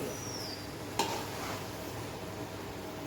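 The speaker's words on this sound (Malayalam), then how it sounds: "ചിക്കൻ മിക്സ് ചെയ്യണം അല്ലേ ചിക്കൻ ഇട്ടു" Chicken being stirred and mixed in a pan for a Kerala-style chicken curry, a steady low scraping and soft sizzle with one sharp knock of the spoon against the pan near the start.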